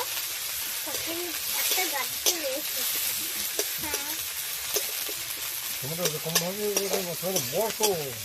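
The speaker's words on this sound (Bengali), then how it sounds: "কাঁচা লঙ্কা কুচি, এটাকে ভালো করে নেড়ে চেড়ে ভেজে নেব।" Chopped onion and green chillies stir-frying in hot oil for a home-style vegetable dish, a steady close sizzle with scraping stirs, while a voice talks over the latter part.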